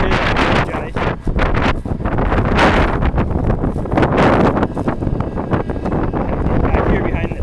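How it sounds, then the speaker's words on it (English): Heavy wind buffets the microphone in an open crop field, a continuous loud rumbling roar with gusty surges, with no talking. "I hope it's not too windy, but if it is, I apologize."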